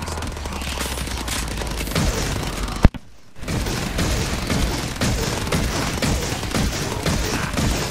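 Sustained turret fire in Call of Duty: Advanced Warfare Exo Zombies on the Carrier map, a dense loud fusillade of rapid gunfire with one brief sharp break around the middle before the shooting resumes.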